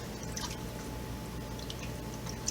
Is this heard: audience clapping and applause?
no